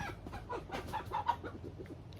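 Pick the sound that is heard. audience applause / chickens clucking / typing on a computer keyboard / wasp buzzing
chickens clucking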